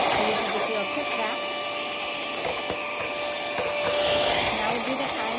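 A tiny handheld vacuum cleans a dusty 3D printer, making a steady, close, high-pitched whine that rises slightly as it moves over the machine. Speech can be heard over it.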